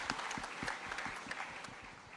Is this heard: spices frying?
no